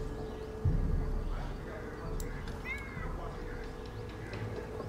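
A cat meows within Far Cry 5 gameplay, a few short, thin mewing cries rising over the game's steady background ambience, moderately close and fairly quiet.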